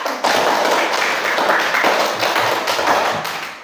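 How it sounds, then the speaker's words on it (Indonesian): A classroom of students clapping their hands together, a loud, close burst of dense, uneven clapping that keeps going for a few seconds and then fades slightly. "Ya, baik, tepuk tangan ya."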